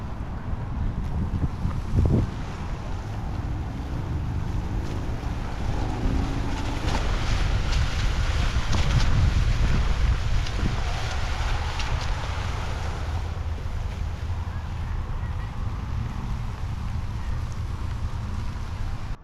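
Mountainboard ridden outdoors on an old Ground Industries TKP setup, with loud steady wind buffeting the microphone and a broad rolling rumble underneath throughout, rising briefly in the middle.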